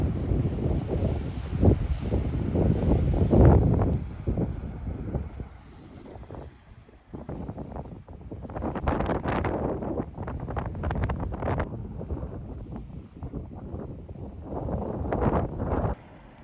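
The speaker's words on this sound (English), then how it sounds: "it's very windy out there" Strong wind buffets the microphone in loud, gusty bursts, dropping briefly before roaring back in repeated surges.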